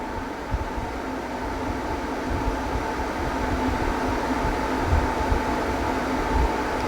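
A Dyson Purifier Hot+Cool fan at speed 9, about 56 decibels, makes a steady, loud whooshing roar with a faint constant hum, unchanging throughout, with no voices.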